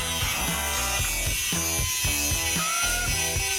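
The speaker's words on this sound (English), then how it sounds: "Then we grab our rivet gun, stick it right in there." Hand rivet gun squeezing a rivet during a knife-sharpening project, making a quick series of repeated ratcheting clicks in an even rhythm, close and moderately loud with no talking.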